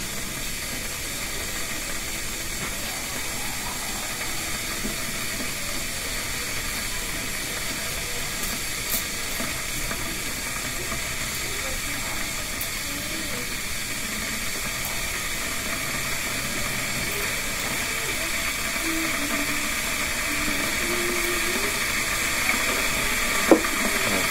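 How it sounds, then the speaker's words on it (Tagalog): A repaired electric kettle brings water to a boil, giving a steady hiss and seething rumble that holds level throughout and builds slightly toward the end, close by with no talking. "Ayan po, kumukulo na siya."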